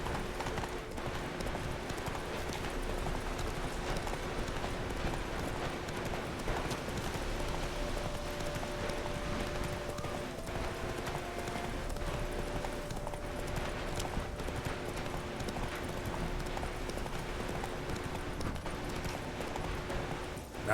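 Roach, a horse in the video game The Witcher 3, galloping: rapid, continuous drumming hoofbeats on the ground, close and steady throughout, with a faint tonal game sound underneath.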